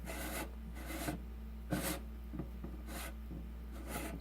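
A spatula scrapes down the inner wall of a blender container in repeated short rasping strokes, about six passes at a steady rhythm over a low constant hum.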